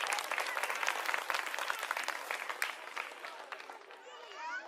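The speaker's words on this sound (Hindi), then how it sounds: "पहले तो एक बार ताली अपने लिए बजा लीजिए आप लोग" A crowd at a political rally claps for itself, brisk, dense applause from many hands that gradually thins and fades toward the end, where a voice begins to speak.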